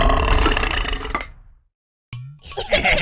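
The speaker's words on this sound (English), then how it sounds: "Belch is another word for burp." Cartoon belch in the Endless Alphabet children's word game, a loud guttural burp that trails off into silence, followed by a short low tone and a burst of game sound.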